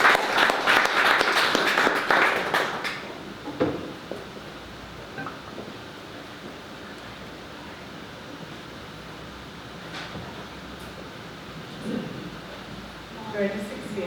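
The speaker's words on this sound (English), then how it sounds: "A round of applause for Donnell." Audience applause at a startup pitch day event, loud clapping from a crowd in an indoor hall for the first few seconds, then fading into quiet room ambience with brief scattered noises.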